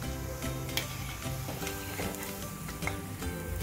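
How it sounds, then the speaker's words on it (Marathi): Sweet corn vadas (makyache vade) deep-frying in hot oil, a steady close sizzle with bubbling crackle and occasional stirring taps throughout. "असेच आता आपण सगळे वडे तळून घेऊया."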